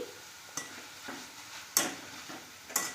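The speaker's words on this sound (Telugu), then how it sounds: "ఇప్పుడు కొద్ది కొద్దిగా కార్న్ఫ్లెక్స్ని ఆయిల్లో వేసుకుంటూ ఫ్రై చేసుకోవాలి" Cornflakes fry in hot oil with a soft, steady sizzle, broken by a few sharp scraping clinks from stirring in the pan at irregular intervals.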